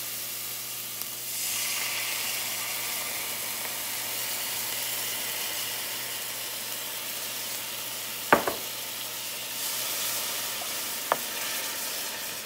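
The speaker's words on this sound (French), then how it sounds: "déglacer avec notre vinaigre de vin blanc" Steady sizzle of a pan being deglazed with white wine vinegar while a grilled beef bavette cooks for an oyster sauce, a continuous frying hiss with a couple of sharp utensil clinks near the middle.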